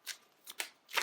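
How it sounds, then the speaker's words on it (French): A deck of playing cards for the Marvel Champions card game is riffled in quick bursts, four short close rustling shuffles within about a second. "Je brasse"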